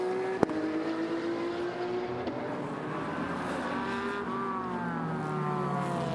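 Ferrari 488 race car at full throttle during GT qualifying at Okayama, its engine note climbing steadily in pitch as it speeds along the track, with a sharp click near the start and no talk.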